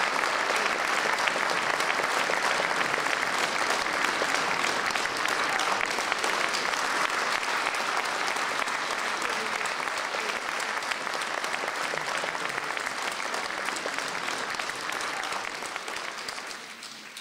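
Sustained audience applause fills a concert hall at an evening of songs set to poetry, steady dense clapping for about seventeen seconds that eases slightly at the end.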